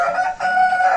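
An Índio Gigante rooster crows loudly and close by, one sustained tonal cock-a-doodle-doo call filling the whole moment with a brief dip midway.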